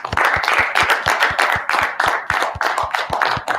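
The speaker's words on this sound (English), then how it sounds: "I just want to clap it up for y'all real fast." One person clapping hands close up, about fourteen sharp, evenly spaced claps in a quick steady rhythm with no voices over it.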